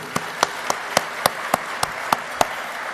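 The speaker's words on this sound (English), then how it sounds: "Let's give them a round of applause, my team." Sharp, evenly spaced claps ring out at a benefit luncheon, about ten distinct strikes in a steady rhythm, fairly close and clear over a low background hum.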